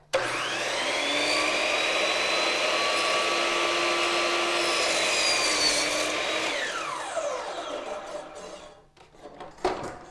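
A miter saw trims baseboard: a loud, steady whine runs for several seconds as the blade cuts, then spins down and fades, followed by a few small knocks.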